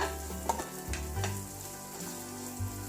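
Onions, chillies and lentils sizzle steadily in a pan up close, with light clinks and scrapes of stirring now and then.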